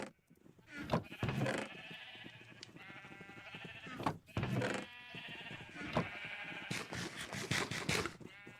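Sheep in the Minecraft video game bleat repeatedly in short, loud, wavering calls, several in a row at close range, with a game soundscape around them.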